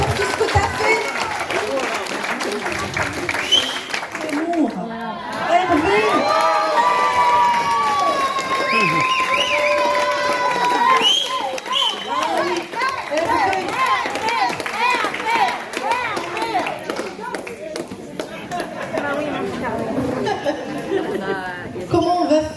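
Audience applause and cheering at a medal ceremony for workers, a steady crowd roar of clapping with voices talking over it throughout.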